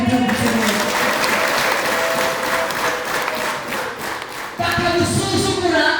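A church congregation applauding, dense loud clapping filling the space throughout, with voices rising over it toward the end.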